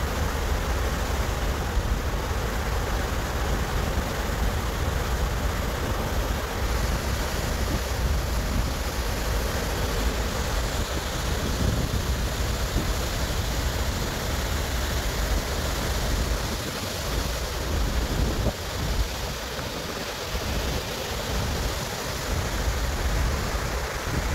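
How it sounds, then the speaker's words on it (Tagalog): Sea waves make a steady, broad wash of noise throughout, with an even roar and no distinct breaks, heard alone without any talking. "Yan ang dagat."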